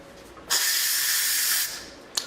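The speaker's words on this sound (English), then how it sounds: "So what it's doing right now, it's just releasing the steam." An Instant Pot pressure cooker releases a sharp, steady hiss of steam for about a second, then cuts off, followed by a brief puff.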